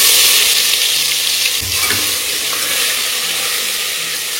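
Curry leaves, asafoetida and ginger-garlic-chili paste sizzle and crackle steadily in hot oil, with a stirring scrape partway through and no talk.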